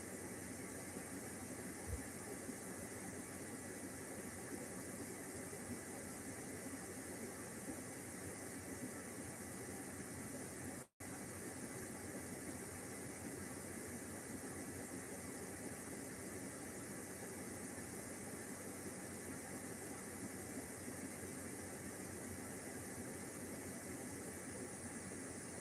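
A V8 van engine idles steadily and alone, a broad continuous drone with hiss and no break except one brief cut partway through.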